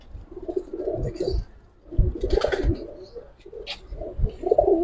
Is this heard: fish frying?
no